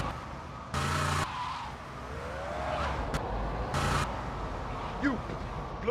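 Car driven fast in the video game GTA Vice City, with engine noise and tyre screeches, two bursts of loud broadband noise and brief horn-like tones, under intermittent game chatter.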